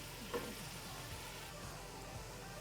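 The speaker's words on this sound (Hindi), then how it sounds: "अब हम इसमें अपने 3-4 अदद आलू डालेंगे।" Three or four potatoes go into a pot of frying meat for Sindhi biryani, giving a soft, even frying sizzle with a light bump as they land at the start, quiet and without talk.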